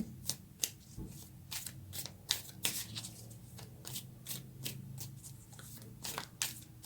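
Tarot cards are shuffled by hand in a quick, uneven run of crisp riffles and flicks, close and clear, with no talking.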